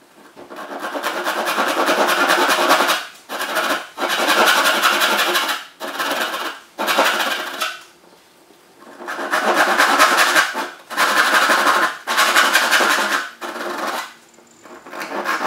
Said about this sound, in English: Now it's as simple as taking our tenon saw and cutting away the pieces that we don't want.